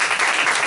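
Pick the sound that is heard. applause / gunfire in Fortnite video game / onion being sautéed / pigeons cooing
applause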